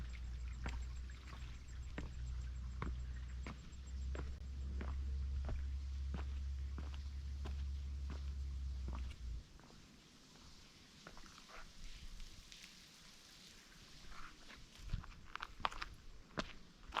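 Footsteps on dry rock while walking down a steep, nearly waterless waterfall in rural Arkansas, with a steady series of crisp, close scuffs and taps over a faint low rumble that drops away partway through.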